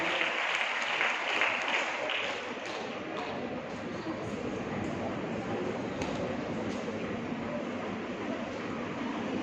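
Sustained loud applause from a college auditorium crowd at a Women's Day celebration, dense clapping throughout with faint voices underneath.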